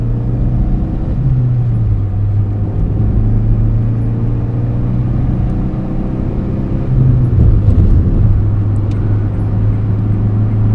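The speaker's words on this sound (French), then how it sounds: "Alors vous avez vu cette accélération?" A Renault Twingo accelerates from inside the cabin, its engine droning loud and steady, then dipping at a gear change before pulling again.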